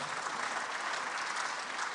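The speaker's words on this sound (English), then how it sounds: "ladies and gentlemen, a round of applause for our panel" An audience at a regional maritime conference applauding a panel, dense steady clapping from a crowd filling the room without pause.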